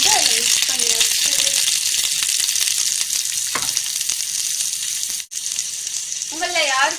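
Ground paste stirred into sizzling mor kuzhambu, a Tamil buttermilk curry, with a steady bright frying hiss, scraping stir strokes and short spoken phrases and voice sounds drifting over the cooking noise.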